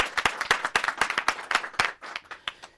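Audience clapping at a youth dialogue event to welcome a guest speaker, close and crisp, with quick, slightly uneven claps that thin out toward the end.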